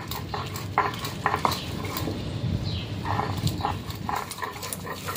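Pointed gourd and dried fish are ground together for a mash, with scraping, knocking and stirring strokes at a steady, uneven rhythm, close and moderately loud, with no talk.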